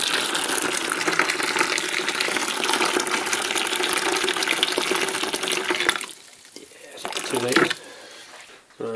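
Hot water pours steadily into a container for elderflower champagne made with ginger and sugar, a broad rushing gush lasting most of the moment before it cuts off into quieter clinks and a short final splash.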